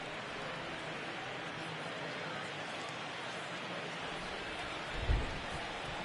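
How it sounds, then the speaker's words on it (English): Heavy rain pouring down during a baseball game in MLB The Show, a dense, steady hiss of falling drops with a low thud near the end, while a commentator talks over it. "the rain starting to intensify here. It's coming down a little heavier now."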